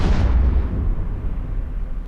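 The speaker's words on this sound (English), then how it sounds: "Okay, the Badger is destroyed." A Badger ship explodes in the space game EVE Echoes, a loud, deep, rumbling blast that holds steady and low for two seconds, with no voices.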